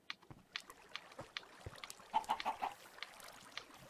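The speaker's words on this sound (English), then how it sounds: "Okay, there's chickens." Chickens in the video game Minecraft give a short run of four quick clucks near the middle, set among scattered game noises and footsteps.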